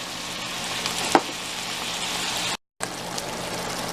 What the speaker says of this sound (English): it's simmering in the pan for about 10 or 15 minutes until all the water's evaporated